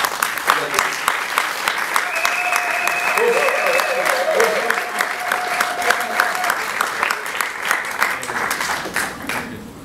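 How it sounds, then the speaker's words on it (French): Applause from an audience at a karate belt and achievement ceremony, a steady dense clapping sustained for the full stretch, with a voice and some tonal sound partly heard through it. "Il mérite l'applaudissement."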